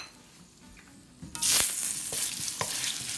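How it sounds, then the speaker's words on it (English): A teaspoon of sugar hits hot oil for caramelizing: a quiet pan suddenly erupts into a loud, close sizzle that settles into a steady hiss, with a couple of stirring clicks. "We're gonna caramelize it."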